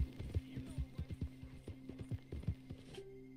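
In Red Dead Redemption 2, a horse's hooves clip-clop in a quick, uneven rhythm, close and fairly quiet, then stop near the end.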